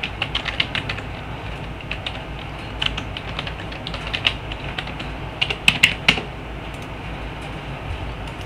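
Computer keyboard typing as a username and password are entered, brisk irregular key clicks in short bursts with slight pauses, close and clear over faint background noise.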